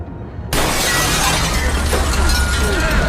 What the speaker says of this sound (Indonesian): jendela pada ruang tunggu hancur akibat kuatnya serangan badai